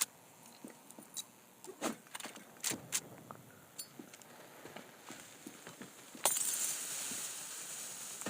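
A Molotov cocktail shatters in the mobile shooter Standoff 2: scattered quiet clicks and footfalls, then a sudden bright glass smash that gives way to a steady crackling hiss of fire.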